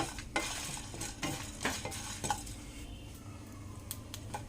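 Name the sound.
dry roasting red chillies and cumin in a pan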